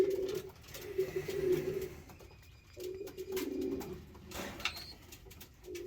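Pigeons coo in repeated low, throaty bursts during a flying session at a breeding loft, the calls coming in clusters with short pauses, fairly close, with no talking.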